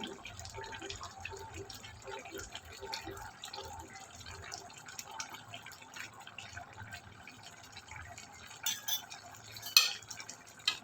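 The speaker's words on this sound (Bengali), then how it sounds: "ভালো করে নাড়াচাড়া করে নামিয়ে নেব।" Shrimp and jackfruit curry with ghee and garam masala being stirred in a pot, a steady scraping and wet bubbling texture with a few louder spoon clinks near the end.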